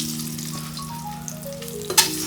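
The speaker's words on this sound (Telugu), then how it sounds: "ఇందులో ఎగ్స్ వేయించుకోవాలి ఇలా." Eggs frying in oil in a pan, a continuous crackling sizzle with a steady low hum beneath and a sharp clatter near the end.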